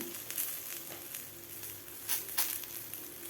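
Cucumber thalipith roasting in peanut oil on a pan, a soft, steady sizzle with a couple of brief louder crackling bursts, close and alone.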